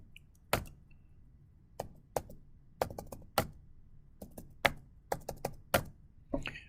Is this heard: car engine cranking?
no